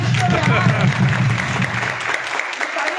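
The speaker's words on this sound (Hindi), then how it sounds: "ये हाँ ताली बजा" An audience at a Modicare business seminar in Bhawani Mandi claps in a sustained burst, with a voice speaking over the applause at the start before the clapping continues on its own.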